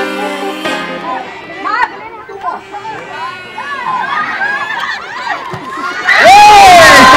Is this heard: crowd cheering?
yes